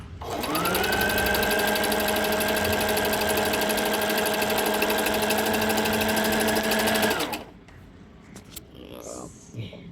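A Brother portable sewing machine that runs slowly stitches a zigzag, giving a steady, close mechanical whir for about six seconds before stopping abruptly. Faint voices and rustling follow.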